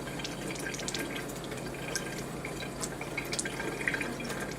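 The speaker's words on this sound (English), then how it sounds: "We're just going to keep rinsing it until the ink is out of the wiper roller." Water runs and drips steadily as ink is rinsed out of a printer wiper roller from a service station unit, a soft continuous trickle with scattered droplet splashes, with no talking.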